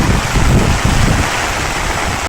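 Heavy, steady rain falls continuously in a dense hiss, loud and close, with no voices.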